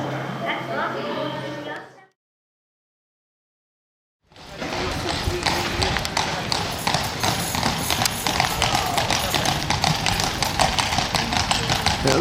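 Steady clip-clop of horse hooves on a hard surface, continuous and fairly close, following a brief burst of noise and a moment of silence.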